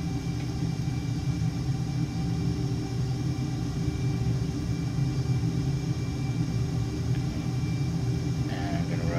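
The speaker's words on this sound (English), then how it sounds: "Okay, brakes off, afterburners on." A continuous heavy roar from an F-5 Tiger II jet with afterburners lit during takeoff in Microsoft Flight Simulator, steady and loud throughout with a dense rumbling low end.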